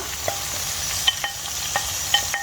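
Minced meat frying with kachnar buds in a pan for kachnar keema, a steady close sizzle with a few sharp utensil scrapes and clicks as it is stirred, no voices.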